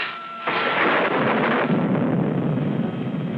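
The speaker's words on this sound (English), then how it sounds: "Just like that thunder, only worse." Thunder in a 1939 western film: a loud, sustained rumbling roll that swells suddenly and keeps churning for several seconds without any talk.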